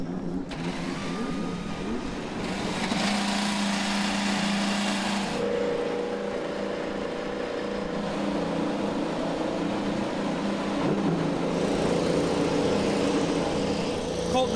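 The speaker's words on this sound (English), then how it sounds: "Drivers, start your engines." IndyCar race car engines starting on the grid at Road America, a dense layered drone of many engines firing and idling, with revs rising in a steady mixed roar under broadcast commentary.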